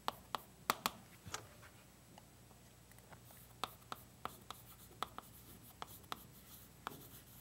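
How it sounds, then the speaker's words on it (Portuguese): Writing by hand during an arithmetic lesson: a quiet, close series of irregular taps and short strokes, with no talking. "Então vou escrever isso aqui, hipótese."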